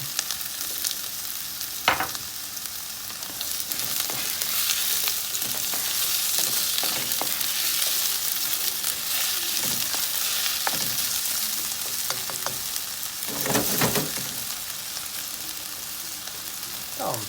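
Potatoes sizzle steadily in a hot pan while being sautéed for a vegetable güveç, a continuous close frying hiss with occasional stirring clinks and scrapes.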